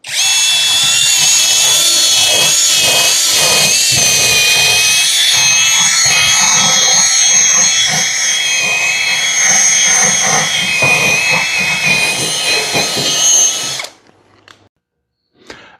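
A GoyWato bargain power drill boring holes, with a loud, close whine that runs steadily for about fourteen seconds with slight pitch wavers, then stops abruptly and leaves near silence.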